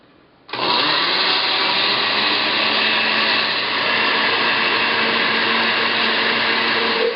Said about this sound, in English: we're going to give those a quick whir in the blender to break them down